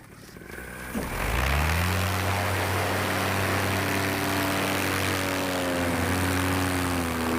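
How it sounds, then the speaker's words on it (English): A paramotor's engine and propeller roar up after a quiet start, then hold a loud, steady drone with slight pitch shifts for several seconds, close and unbroken. "Paramotor."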